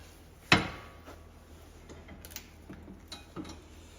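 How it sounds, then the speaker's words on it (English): A wrench tightening a castle nut on the tie rod of a 2006 Honda Odyssey: one sharp metallic clank, then a few faint scattered ticks and clicks of the tool at close range, with no voices. "So I'm going to go ahead and get the wrench and tighten that up a little bit."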